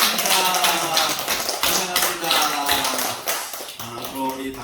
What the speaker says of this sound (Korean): 자, 박수 한번 해주시기 바랍니다